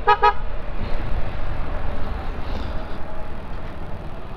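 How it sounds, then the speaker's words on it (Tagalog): A motorcycle horn gives two quick close beeps at the start, followed by steady engine and road rumble from the moving bike. "Busina ulit."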